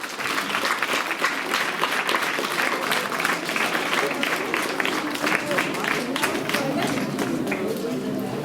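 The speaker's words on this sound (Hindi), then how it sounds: "जोरदार तालियां बजाएंगे।" A school audience at a science outreach event in Gua claps loudly and continuously during the lighting of the ceremonial lamp, a dense, steady roar of applause from a crowd.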